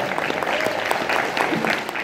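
An audience at a sci-fi convention in Stockholm breaks into applause, a dense, steady patter of many hands clapping that fills the two seconds with some murmur underneath.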